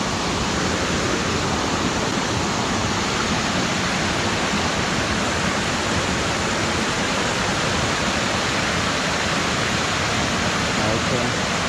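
A waterfall roars in a steady, dense wash of rushing water, loud and unbroken throughout, close by and filling the whole scene.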